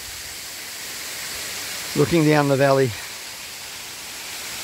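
Banyuwana waterfall in Wanagiri, Bali rushes as a steady broadband roar throughout, with a voice speaking briefly over it in the middle.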